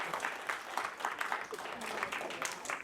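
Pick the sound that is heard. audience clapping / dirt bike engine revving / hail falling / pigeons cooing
audience clapping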